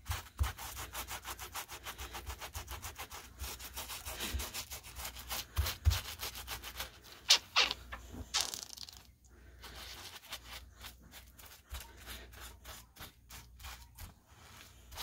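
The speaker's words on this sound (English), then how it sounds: "And rub it right in." Stain remover is worked into fabric by hand with quick repeated rubbing strokes, a close scratchy brushing texture that comes in rhythmic bursts with short pauses, fairly quiet and without speech.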